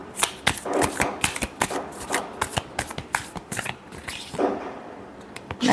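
Tarot cards shuffled by hand, a quick run of crisp riffling and rubbing bursts, close and fairly soft, with no talking.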